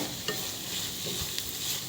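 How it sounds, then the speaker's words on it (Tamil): Egg fried rice with soy sauce being stirred in a pan, a steady scraping and tossing over a continuous close sizzle, with a few sharper scrapes standing out. "இப்போ நல்லா கலரலாம்."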